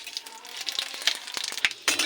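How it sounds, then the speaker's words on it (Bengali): Panch phoron spices spluttering in hot oil with dried red chillies and bay leaf, crackling in sharp irregular pops and sizzles, close and fairly quiet, with a few louder bursts near the end. "পাঁচফোড়ন ফুটে এসছে"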